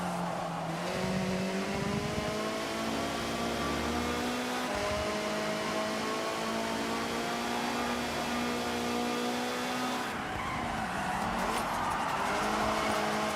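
A race car engine in Forza Horizon 6 revs and climbs through gears, a loud continuous snarling drone with rising pitch sweeps, brief lifts and a renewed surge near the end, no voices.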